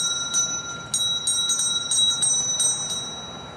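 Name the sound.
doorbell ringing faintly, sound effect in a story reading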